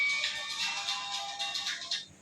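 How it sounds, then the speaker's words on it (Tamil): A phone ringtone announces an incoming call indoors in Qatar, a bright repeating electronic melody playing steadily for about two seconds, then cutting off abruptly. "ஃபோன் வருது"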